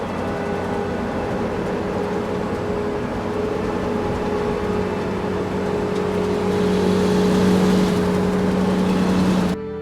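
A tractor engine drones steadily and loudly as it drives, a constant close rumble that swells slightly toward the end and then cuts off abruptly.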